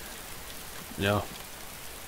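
Rain falls in the survival game DayZ, a faint, even hiss running throughout, with one short spoken word breaking in partway through.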